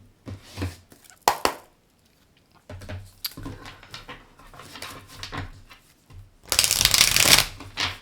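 Tarot cards being shuffled in several separate bursts, close and fairly loud, with quiet gaps between them and a long, dense riffle toward the end; no talking.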